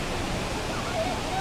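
Multnomah Falls roaring as a steady, dense wash of falling water heard from a viewpoint, loud and unbroken throughout the short stretch.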